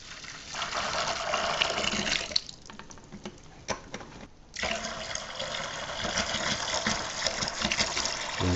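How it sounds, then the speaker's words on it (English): Concord grape juice gushes from a jug into a fermenter while making must, a steady liquid pour that pauses briefly with a few drips and splashes, then resumes flowing. "We're starting to add our Concord grape juice in."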